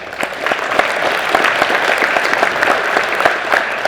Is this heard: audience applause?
yes